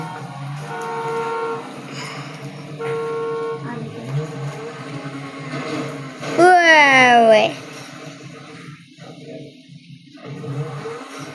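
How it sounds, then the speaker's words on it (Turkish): A car horn gives a sharp, loud honk after several shorter tones, with people talking nearby before and after. "Böyle korna çalıyoruz"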